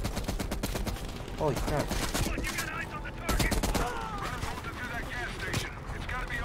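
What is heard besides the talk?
shotgun gunfire in video game Black Ops Cold War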